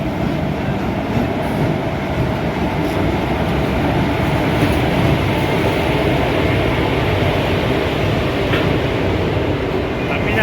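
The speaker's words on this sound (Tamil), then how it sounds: "காரைக்கால்லேருந்து எஸ்எம்பிடி பெங்களூர் வரைக்கும் போகக்கூடிய ட்ரெயின் வந்துட்டு இருக்கு" A Karaikal to Bengaluru express train rolls in with a steady rumble and rail clatter, a continuous loud roar with a few brief metallic squeals.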